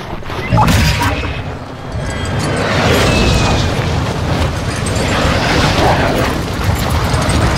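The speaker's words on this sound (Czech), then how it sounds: "Mortar, bacha, mortar," Mortar shells burst in Call of Duty Warzone 2, one sharp loud boom followed by a long rumbling, crackling barrage of blasts that stays heavy and continuous to the end.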